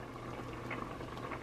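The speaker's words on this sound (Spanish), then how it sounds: "Ahora ya que esté así como hirviendo, que haya brotado bien" Rice bubbling in a pot of water on the stove while making a four-milk rice pudding, a steady low simmering hiss with occasional small bursting bubbles, nothing else over it.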